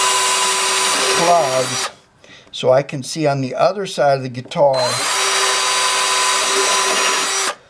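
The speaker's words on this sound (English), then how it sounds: "I have two drills, and what I'm going to do now is I'm going to drill down through the middle of these" A power drill bores down through the middle of plugs on a guitar, whining loudly for two sustained bursts with someone talking in the pause between them.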